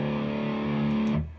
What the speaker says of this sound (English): a really affected distorted guitar going open